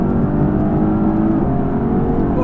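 A 2020 Mercedes-AMG GTC engine pulls hard and loud up close, a steady throaty drone with a slight rise in pitch as it revs through quick gear changes.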